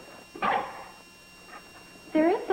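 A dog in an old TV sitcom scene whimpers and gives short yipping barks in a few bursts, close and clear, with a quiet pause between them.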